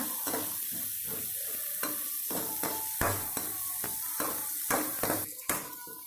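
Onions sauté in oil for a crab gravy while a spoon stirs them in rhythmic strokes, each scrape rising over a steady close sizzle, with a louder clatter near the end.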